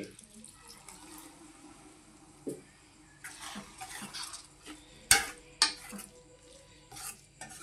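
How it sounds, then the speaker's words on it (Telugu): Water poured into a pan of prawn curry on the stove, a soft splashing pour mixed with light stirring clinks of a utensil against the pan, several sharper knocks near the end, close and fairly quiet. "ఇప్పుడు ఇందులోనే కొంచెం వాటర్ వేసుకుందామండి."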